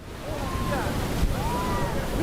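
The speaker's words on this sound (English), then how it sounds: "giant waves of more than 10 meters reached the beach of Gijón and the rest of the Cantabrian coast in 2014." Giant storm waves over 10 meters high surge onto the beach of Gijón on the Cantabrian coast, a steady roaring wash of surf with heavy wind noise throughout.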